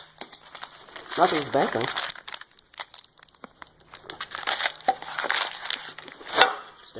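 Aluminum foil used as packing around steel parts crinkles and crumples up close in irregular bursts as it is unwrapped, while someone talks over it.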